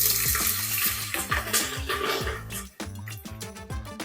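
Fresh ginger, cashews and green chilies sizzle in hot ghee for millet kaara pongal, a steady crackling fry running beneath rhythmic background music.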